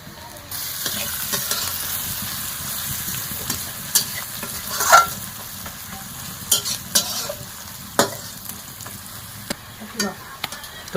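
Onions frying in oil with chili powder and sugar for chicken curry in a home kitchen, a steady low sizzle broken by repeated scraping stirs and clinks of a spoon against the pan, close with no talking.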